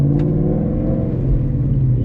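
A car with an MGW short shifter and weighted Raceseng shift knob pulling through first and shifting into second gear, a loud close steady engine drone and whir from inside the cabin, with no voices.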